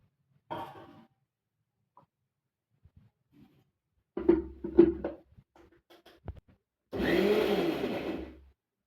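A kitchen mixer grinder pulses grated coconut for a village-style chutney, giving three short whirring bursts separated by quiet gaps, with the last burst the longest and loudest.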